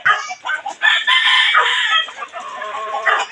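A gamecock crows loudly and close by, one long drawn-out call with a rising and falling pitch, followed by a shorter trailing crow.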